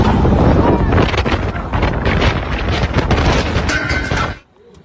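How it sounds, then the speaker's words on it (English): Gusty storm winds of up to 100 km per hour during a Dubai flash flood roar loudly and continuously, buffeting the microphone in a dense rush, then drop away abruptly near the end. "The gusty winds reaching speeds of up to 100 km per hour have posed a significant threat to residents and visitors"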